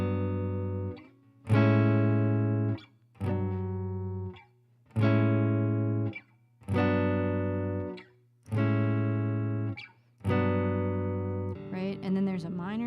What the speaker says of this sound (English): so the first column is major 7th, which sounds like this